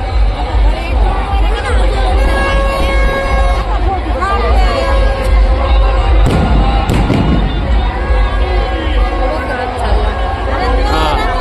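A large crowd gathers at the Ram Rath chariot procession in Nashik, with dense, loud babble and chatter filling the air, broken by occasional thuds and sharp bursts.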